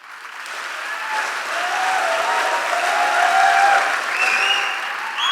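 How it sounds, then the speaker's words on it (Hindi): Crowd applause for the Indian Army at a motivational speech event, a dense wash of clapping that swells and holds steady for several seconds, with a faint voice calling out near the end. "सबसे बेहतरीन दमदार ताली होनी चाहिए इंडियन आर्मी के लिए, सबसे शानदार ताली होनी चाहिए"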